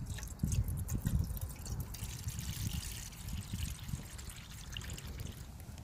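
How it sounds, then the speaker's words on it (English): Water is poured into a pan on a camp stove before cooking pasta, giving a close, uneven trickling and splashing sound lasting a few seconds. "Get the pan on. Get some water in because we're going to cook the pasta first."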